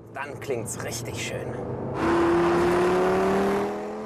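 An Audi RS3 five-cylinder engine in S mode revs up to a loud, sustained drone that holds steady for a couple of seconds, then eases off, following a stretch of talk.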